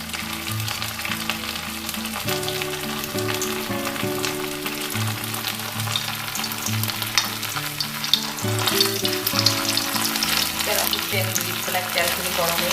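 Paneer malai kofta balls frying in hot oil in a kadai, a steady close sizzle and bubbling that runs throughout with occasional stirring, while background music plays underneath.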